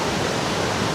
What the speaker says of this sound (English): The Karuru waterfalls, the highest waterfalls in Kenya